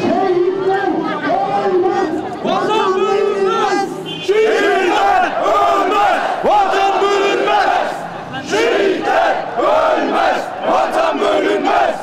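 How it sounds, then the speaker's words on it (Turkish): Thousands of citizens carrying Turkish flags chant patriotic slogans in unison as they march from the municipality building to the city square at an anti-terror rally in Bolu; loud, continuous rhythmic crowd chanting with rising and falling shouts. "Türk bayraklarıyla belediyenin önünde toplanan Bollu binlerce vatandaş şehitler ölmez, vatan bölünmez, her şey vatan için ve ne mutlu Türk'üm diyene sloganları atarak kent meydanına kadar yürüdü"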